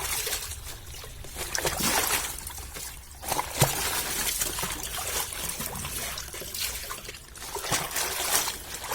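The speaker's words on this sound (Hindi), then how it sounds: "पत्ता को पानी में खूब अच्छी तरह से इसको धो लेना है।" Water splashes and trickles steadily as taro leaves are rinsed by hand in a basin, close and continuous with occasional louder sloshes.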